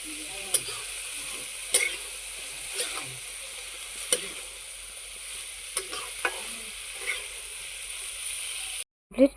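Chickpeas are stirred in a cooking pan with a spoon that scrapes and clinks at irregular intervals over a steady, faint sizzle, with a brief break just before the end.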